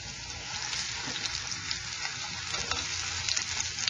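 Ground meat for tacos with plenty of garlic and onions browning in a pan, a steady loud sizzle of frying with scraping stir strokes throughout, close and continuous, no talking.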